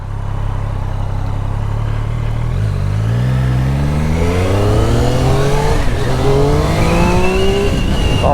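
A 2024 Triumph Street Triple RS motorcycle engine revs and pulls hard through the gears, its pitch climbing steadily in a rising whine, loud and close, with no talk over it.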